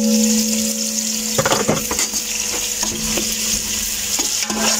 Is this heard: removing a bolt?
no